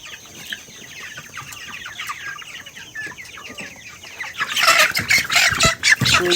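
Broiler chickens in a poultry shed cluck and chatter at close range, then burst into loud, flapping squawks as one red-feathered bird is grabbed.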